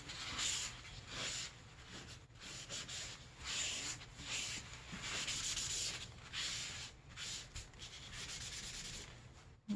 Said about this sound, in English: put a little bit of art glitter glue on the sides only, and then go ahead and burnish that down